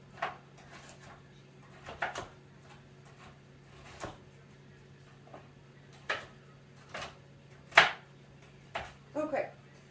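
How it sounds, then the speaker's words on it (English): A knife chops yellow pepper for soup on a board, sharp isolated knocks spaced a second or two apart, close and clear over a low steady hum, with no talking. "Okay, so we're gonna chop that up."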